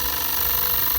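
Stuart ST steam engine on a small steam launch, running steadily with a continuous dense mechanical chuff and hum, close and loud with no talk.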